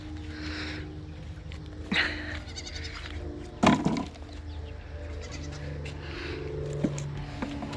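Bucks (male goats) bleat a few times at close range, short nasal cries scattered over a steady outdoor hum.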